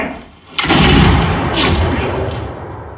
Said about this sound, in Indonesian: Tembakan kedua John terkena di bagian pundak, sementara Kane terkena di bagian perut.